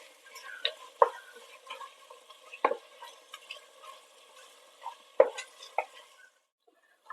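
Tomatoes with rock salt are stirred and fried in a pot for Ambur seeraga samba mutton biryani: sharp spatula scrapes and clinks at irregular intervals over a faint sizzle, close by, without any talk.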